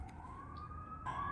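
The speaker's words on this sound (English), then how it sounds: "I do live in New York City, so I apologize if you hear sirens" A police siren sounds through a New York City apartment window as a faint, steady wailing tone in the distance behind quiet room noise, briefly swelling toward the end.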